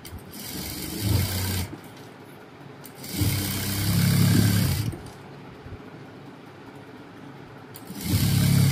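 An electric sewing machine stitches the seam of a coat-style dress in three bursts of rapid whirring and clatter, separated by quiet pauses, heard close up.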